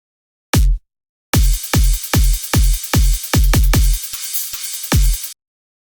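A crash cymbal is layered over an irregular electronic kick drum pattern, each punchy kick topped by a bright washing crash, the hits bunched in a stuttering rhythm and played loud with no talking.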